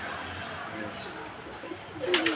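Soft, low pigeon cooing from a rooftop pigeon loft in Lahore comes through a murky background, with a brief brighter burst near the end.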